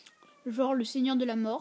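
A domestic cat meows loudly and close by in two drawn-out, wavering cries, overlapping someone speaking French.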